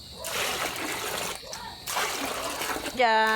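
Hot water pours and splashes into a basin in two bursts separated by a brief pause, ending as a voice speaks over it.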